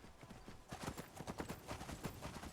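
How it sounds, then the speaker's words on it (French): Horse hooves clip-clop in the Skyrim video game, a rapid, steady run of hoofbeats at moderate loudness with no talking over them. "Oh, le bruit du cheval, bordel."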